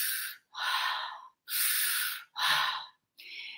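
Forceful activating breathing exercise: five sharp, rhythmic breaths through the nose, each a loud rushing burst separated by brief silences, close and alone with no talking.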